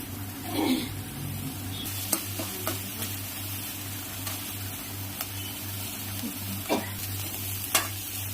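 Ghetkochu leaves frying in a pan with turmeric make a continuous close sizzle, while a spoon stirs and taps against the pan in scattered clicks over a constant low hum.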